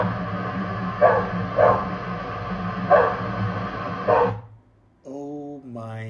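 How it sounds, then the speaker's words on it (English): An AI-generated dog barking sound effect meant for a rainy-day scene: four evenly spaced barks over a steady hiss, then a brief silence before a higher whimpering or yipping tone. "This is not a real dog. This is just a sound effect produced by AI."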